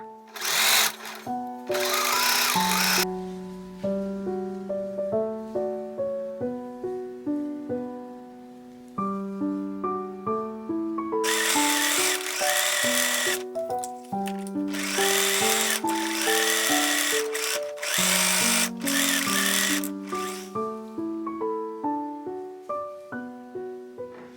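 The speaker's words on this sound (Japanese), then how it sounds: "脇を縫おう。" A sewing machine stitches the side seams of a fabric dress in loud, fast mechanical bursts of varying length, broken by short pauses, with the motor's pitch rising and falling between runs.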